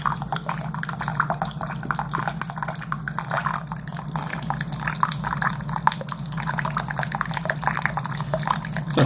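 Hot water pouring and trickling through a WaterFirst countertop reverse osmosis filter, a steady close splashing and dripping flow that continues without pause, with no talk.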